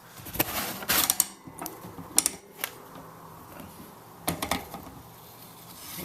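A breaker bar ratchets against a lock-ring tool while loosening the center lock rotor lock ring on an e-bike, giving a series of close mechanical clicks and sharp metallic snaps over a low rumble, with no speech.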